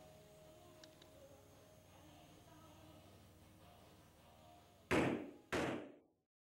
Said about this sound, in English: I center punch the stock so my drill bit doesn't wander when we drill them out